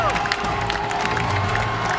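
A packed arena crowd at a Battle of the Nations medieval combat tournament in Prague roars and cheers continuously, with clapping and stomping feet, dense and loud throughout the short stretch.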